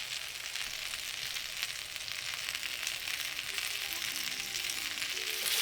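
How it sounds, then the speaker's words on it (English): Gyoza dumplings frying in sesame oil over high heat, a steady loud sizzle holding evenly throughout with no voices. "Then sprinkle evenly with 2 tablespoons of sesame oil. Let grill for about 5 minutes, still over high heat."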